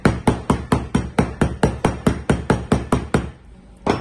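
A hammer strikes a hydrogel screen protector on a phone in rapid, even succession, about fifteen sharp, loud close blows in a steady rhythm before stopping, with no talking.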